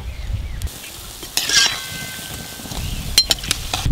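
Palm fruit fritters (taler bora) fry in hot oil with a steady crackling sizzle. Sharp spatula scrapes and clinks against the pan come through clearly, close up.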